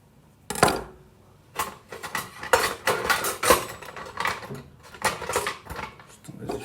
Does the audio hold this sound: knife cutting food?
yes